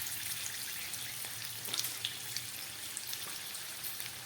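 Garam masala spices temper in hot oil for a vegetarian cabbage dish, giving a steady, soft sizzle and crackle with scattered small pops throughout, close and moderately quiet.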